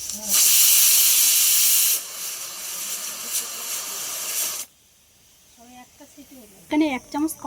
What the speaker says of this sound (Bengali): এবার প্রেসার কুকারটা বসিয়ে দিলাম।